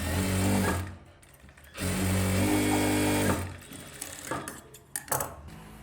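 A sewing machine runs in two loud steady bursts of stitching on a folded blouse strip, pausing between runs, followed by softer clicks and handling of the fabric.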